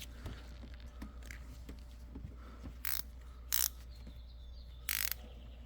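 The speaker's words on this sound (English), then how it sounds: "So first we're gonna go ahead and loosen up this 14 millimeter that's on the alternator." Ratchet wrench clicking while loosening a 14 mm alternator bolt on a 2011 Toyota RAV4 2.4L four-cylinder, faint rapid pawl ticks with a few louder short bursts of ratcheting, close and alone.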